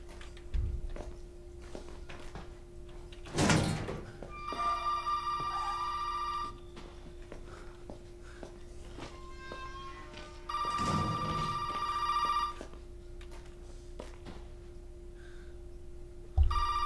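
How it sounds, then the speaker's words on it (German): An old-fashioned telephone bell rings in two long bursts several seconds apart inside the horror video game Resident Evil 7, over a quiet steady hum with a faint thud and scattered footsteps. "Wieso klingelt das Telefon jetzt?"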